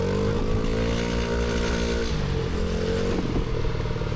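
A motorcycle engine drones steadily as it is ridden through Ohrid streets, its throttle shifting up and down, with some clatter in the mix and no voices.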